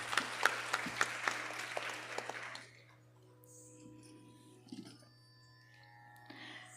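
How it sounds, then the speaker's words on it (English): Applause from the audience at a Bharatanatyam arangetram, a few seconds of moderately loud clapping that fades out, leaving quiet room tone with faint stray sounds. "A big round of applause once again for Mansi Mehta."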